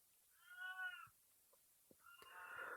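Indoor cats meow twice, faint and somewhat distant, a drawn-out tonal meow followed after a pause by a second rising one, with light thumps between.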